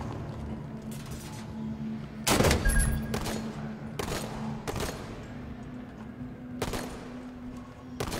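Pistol gunfire in Halo 5: Guardians, heard as several sharp separate shots spaced a second or so apart, with one heavier burst early on, over a steady game background hum.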